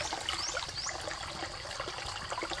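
Water trickles and burbles steadily in a rocky stream rapids where shrimp live, a soft, continuous babble with small splashes, faint and alone.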